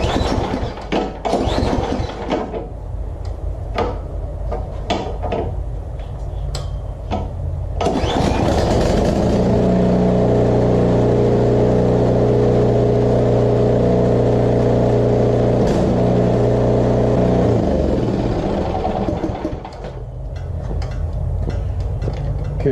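Snow blower engine running at the start of snow season, a loud, steady engine drone that settles into a sustained hum after some clatter, close to the microphone and with no talk over it.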